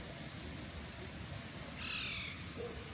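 Birds crowd around someone holding snacks in Vondelpark, Amsterdam, with a steady outdoor wash of noise and a short, faint call rising briefly near the end.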